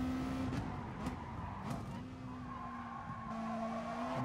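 A race car skids in Gran Turismo Sport, with a steady tire squeal and engine tone running throughout, broken by a few sharp bursts, moderately loud and mostly without talk.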